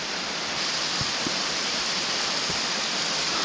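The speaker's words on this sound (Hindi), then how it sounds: "बर्फ़ का पिघलता हुआ पानी नीचे की ओर बहता हुआ आ रहा है" Snowmelt water rushes downhill on the high-altitude Hemkund Sahib trek in the Himalayas, a steady broadband roar of flowing water close by that holds level throughout, with no voices over it.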